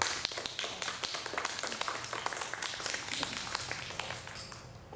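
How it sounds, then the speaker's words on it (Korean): A church congregation at a Sunday service claps to welcome a member, a soft, scattered patter of many hands at moderate distance that thins out and fades toward the end. "큰 환영의 박수 한번 부탁드리겠습니다"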